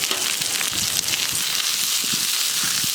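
Red onion dropped into a pan already holding green and yellow bell peppers for a venison chorizo hash, frying with a dense, continuous crackling sizzle and occasional stirring thumps.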